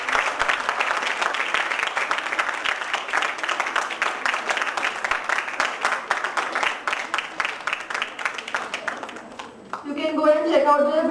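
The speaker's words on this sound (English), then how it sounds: "A big round of applause." An audience applauds at a college commerce and management conference, steady rhythmic clapping that fades near the end before a voice starts speaking.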